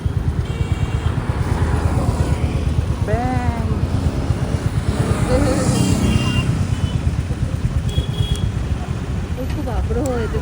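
A motorcycle runs steadily during a ride, its engine rumbling close and loud with constant wind buffeting, while people talk and other traffic passes nearby.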